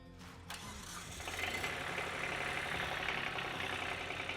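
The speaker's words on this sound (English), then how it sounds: "The tractor has to be running." An engine cranks and catches, then settles into a steady, rumbling idle close by.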